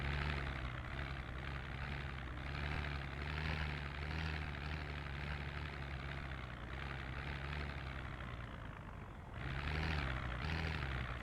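A helicopter in the video game Project Zomboid flies overhead, a steady, loud rotor-and-engine drone with a low throbbing pulse that dips briefly near the end and then swells back.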